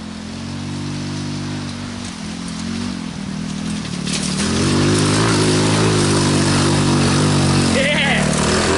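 An off-road vehicle stuck in mud on open ground, its engine droning steadily at first, then rising to a louder, harder full-throttle roar in the second half as it pushes through.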